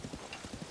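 Hoofbeats of a galloping horse in the video game Zelda: Tears of the Kingdom, a steady quick clip-clop rhythm of repeated thuds, close and fairly quiet.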